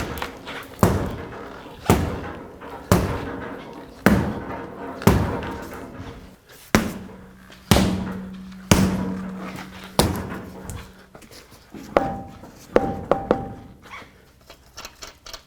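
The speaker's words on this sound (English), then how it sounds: "use a rubber mallet and hit it from the back side" A rubber mallet strikes the back of a stuck wheel on a 1997-2003 Ford F-150, landing about a dozen heavy, evenly spaced thuds in a steady rhythm, up close and loud.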